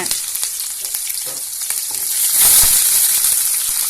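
Mustard seeds, curry leaves and small shallots fry in hot oil for a thuthuvalai rasam, making a loud close sizzle with crackling pops and stirring scrapes that swell toward the middle.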